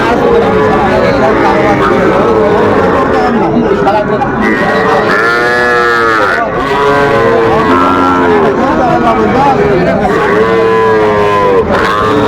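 Young bull calves and cattle at a crowded livestock market near Dhaka, lowing and mooing repeatedly close by amid a constant din of traders talking and haggling.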